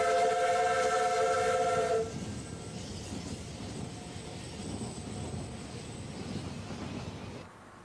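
A Ffestiniog Railway Double Fairlie steam locomotive, Earl of Meirionnydd, built in 1979, passes through Summit Cutting. A loud chime whistle sounds for about two seconds, then a steady rumble of the train running continues and fades near the end.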